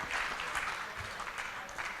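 Audience applause at a university student union leadership election results event, welcoming the Lord Mayor; moderately faint, even clapping from a room of people, with no talk on top.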